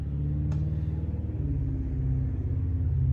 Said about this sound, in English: that is a very loud truck